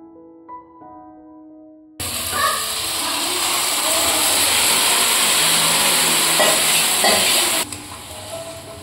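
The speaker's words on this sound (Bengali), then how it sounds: "আর এখন মাংসটা রান্না চলছে।" Mutton curry cooks in a pan, giving a steady loud sizzle and hiss that runs for several seconds with faint stirring under it. Quieter background sound comes before and after, and no one speaks.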